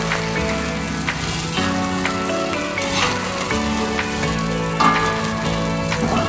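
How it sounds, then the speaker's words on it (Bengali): Sago pilaf being stirred with salt in a wok makes a continuous soft sizzle and scraping under steady background music. "লবণটা দিয়ে আমি একটু নাড়াচাড়া করে নেব"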